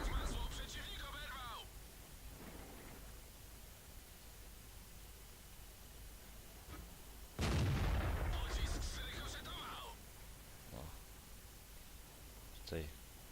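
Heavy tank cannon shots in World of Tanks boom at intervals over a steady hiss of background noise, one especially loud blast in the middle, with brief mechanical chatter between.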